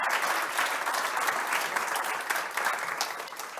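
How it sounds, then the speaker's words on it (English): Conference audience applauds a panel after a morning business event, with steady, dense clapping from a moderately sized crowd, even in level throughout and slightly fading at the end, with no talk over it. "If I could ask you to give them a round of applause and show appreciation for"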